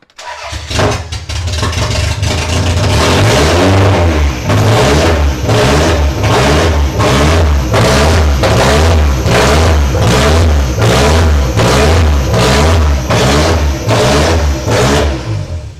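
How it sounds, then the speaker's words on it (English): A Toyota MR2 engine starts for the first time after a battery is fitted, cranking briefly before catching, then revving in loud, regular, pulsing surges for about fifteen seconds, close up and with no talking. "So all I need to do now is put the battery on and try and give it its first start."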